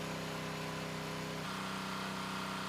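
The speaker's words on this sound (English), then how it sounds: "the Predator engine sounds great so far" A Predator small engine runs steadily during an oil additive test, giving a loud, even mechanical drone with a constant rhythmic pulse and a slight change in tone partway through.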